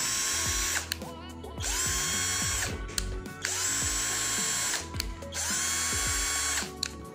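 A 12V Deli DL600012 cordless drill has its speed selector switched while it runs, the motor whining in long bursts with whirring, ratcheting gear clicks and shifts in pitch between them.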